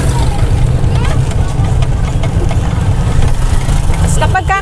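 A TVS King three-wheeler engine runs with its throttle being worked, a loud continuous low rumble with a person talking over it.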